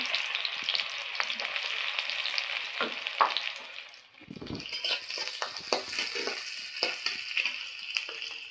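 Dried red chilies frying in a pan, a bright steady hiss of hot oil with scattered crackles and brief stirring knocks, dipping briefly midway before the sizzle swells again, heard close with no talking.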